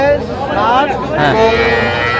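Cattle mooing close by at a farm market in Rangpur with young bulls and heifer calves, several drawn-out lowing calls overlapping, with faint chatter in the background.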